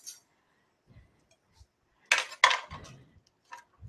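A metal serving spoon clinks and scrapes against dishes in a kitchen, with a few quiet taps and then a cluster of sharp, close clinks mid-clip before a last light knock.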